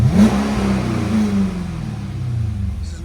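A Cadillac CTS-V's 6.2-liter V8 revs through its stock exhaust, loud and close, with a deep engine note that climbs and falls across a steady throttle blip.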